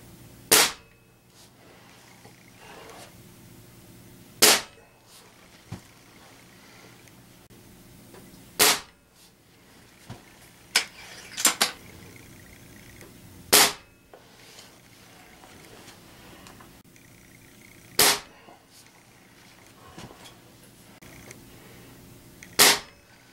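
Sharp, loud shots from a Benjamin Trail NP .22 caliber air rifle firing Crosman 9.5 grain alloy pellets, about seven cracks spaced a few seconds apart with a cluster of smaller clicks between, over a quiet background.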